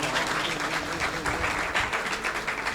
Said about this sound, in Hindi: खूबसूरत वर्शिप के लिए जोरदार तालियां